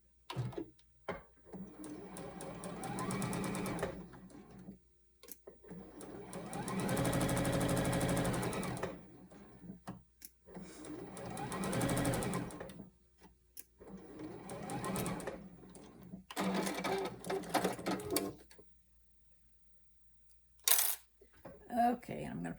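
Home sewing machine stitching quilt sections together, running in several loud, rapid, even bursts of a few seconds each, separated by quiet pauses and small handling clicks.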